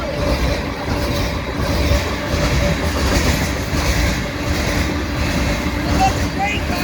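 Elgin local freight train rolling past on the Austin subdivision, a steady close rumble with rhythmic clickety-clack of wheels over rail joints and brief high squeals, people talking excitedly over it.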